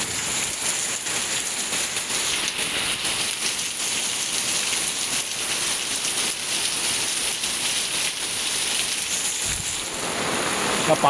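Heavy monsoon rain pours steadily in a Konkan village, a dense, even roar of drops drumming on surfaces close by, holding constant for the whole stretch with no talk over it.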